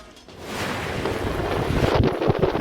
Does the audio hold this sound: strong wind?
yes